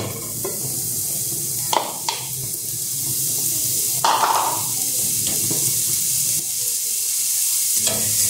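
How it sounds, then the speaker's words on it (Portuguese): Diced bacon sizzles steadily in a hot pan, a constant bright frying hiss with occasional clinks and scrapes of stirring. "Deixa dar uma fritadinha aqui nesse bacon"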